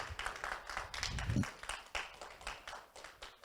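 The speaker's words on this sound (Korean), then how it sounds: "공감하시면 박수 한번 부탁드리겠습니다" Audience clapping at a Korean environmental academy lecture on brain training, fairly faint and sparse, a scattering of hands in a hall.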